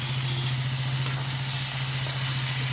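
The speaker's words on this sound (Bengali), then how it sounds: "একটু লাল লাল করে ভেজে নিতে হবে।" Onion frying with jackfruit and potato in a pan for a Bengali curry gives a steady close hiss and sizzle over a constant low hum, with no voices.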